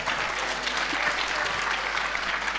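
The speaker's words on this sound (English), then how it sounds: "Can we please have a round of applause for Honorable Emma?" An audience at a national ICT summit claps steadily and densely for a young minister, a continuous wash of applause with no pauses across the short stretch.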